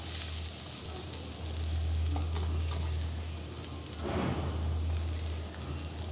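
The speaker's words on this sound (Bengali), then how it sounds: "সেই সাথে দিয়ে দিলাম বেশ কিছুটা কুচানো পেঁয়াজ। পেঁয়াজটা খুব ভালো করে ভেজে নেব।" Chopped onions fry in mustard oil in a wok, a soft, steady sizzle with a low hum underneath and a brief swell of crackling partway through.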